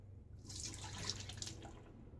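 Soap froth being poured off a soaking boar-bristle shaving brush, a soft close trickle and splash of water with light drips, fairly quiet and brief with no talking.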